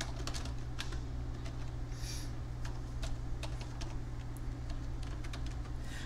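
Computer keyboard typing, entering information into table cells, heard as a steady run of quick clicky keystrokes over a constant low hum, close and fairly quiet, with no talking.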